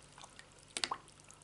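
Clear water rinses parts of an IQOS heated tobacco device, giving a quiet, brief cluster of close drips and small splashes over faint background hiss.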